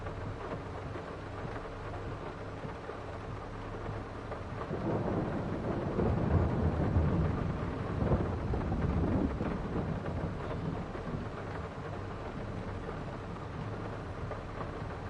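Steady rain with rumbling thunder in the farming game Farming Simulator 22, on the Silver Run map. The rain hiss runs throughout, and a swelling roll of thunder rises in the middle before fading back to rain alone.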